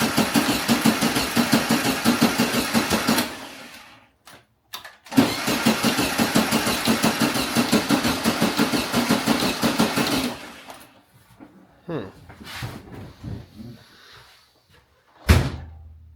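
A 1974 VW Beetle engine cranking with a rapid rhythmic churn, catching briefly, cranking again for several seconds, then cutting out, followed by scattered clunks and a final sharp knock, close and fairly loud.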